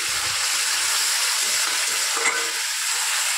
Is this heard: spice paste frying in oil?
yes